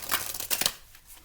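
Tarot cards being shuffled by hand during a love reading, giving quick papery riffling bursts at close range, brief and moderately soft, with no talk over it.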